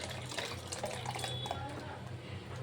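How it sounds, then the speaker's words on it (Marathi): Water splashes as it is tipped off wheat grains soaked for four days for starch extraction, a soft, fairly faint pouring over a steady low hum, with no talking. "आता याचं पाणी वगैरे थोडंसं मी वरचं फेकून दिलं"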